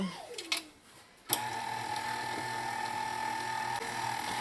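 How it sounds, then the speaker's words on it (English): A stand mixer starts up with its paddle attachment breaking up cake for a Trini cake recipe, a brief clatter then a steady motor whir with a high whine, close, no talk. "using your paddle attachment or your hand, you're going to break up the cake"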